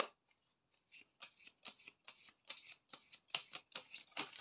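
Tarot cards shuffled by hand in a run of about a dozen crisp riffling bursts, starting faint and growing louder and closer, with no talking.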